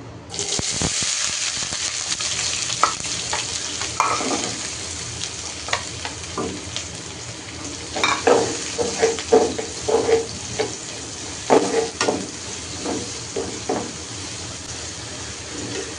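Onions sizzle and crackle loudly in hot oil, a steady hiss with intermittent sharper pops and stirring scrapes, no voices.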